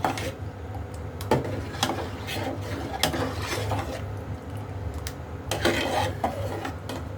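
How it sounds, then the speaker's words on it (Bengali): Custard is stirred in a pot on the stove, a spoon scraping and tapping the metal in an irregular rhythm over a low simmering hum, at moderate volume. "কিছু নেড়ে চেড়ে যখন ঘন হয়ে যাবে তখন আমি আস্তে তুলে দেবো"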